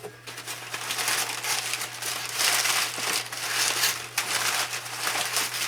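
Crinkly saran wrap plastic packaging is pulled and unwrapped from a box holding a GE General Electric 3-5280B radio, with continuous close rustling and crackling in uneven bursts, no voices.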